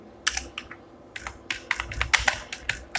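Rapid bursts of keystrokes on a computer keyboard while entering contact form text into a blog post, close and crisp, in irregular clusters with short pauses.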